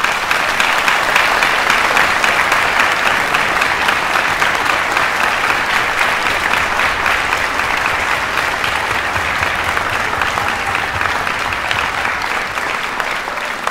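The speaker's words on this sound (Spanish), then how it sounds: "Quisiera que le den un fuerte aplauso a todos los músicos" A large audience applauds the musicians of a Christian worship concert, a dense, steady roar of clapping that holds at full strength and stays loud throughout, with no voices rising above it.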